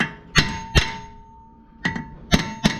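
A hammer strikes the front brake rotor of a 2013-2020 Lexus GS 350 F Sport five times, giving sharp, close metallic clangs in two uneven groups with a pause between. No voices.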